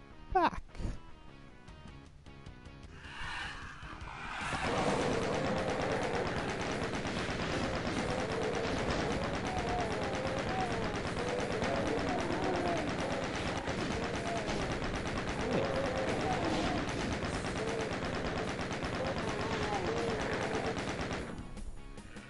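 Rapid, continuous gunfire from the 1993 Doom game, level Knee Deep in the Dead, pours out in one dense, loud barrage lasting many seconds after a few brief opening shots.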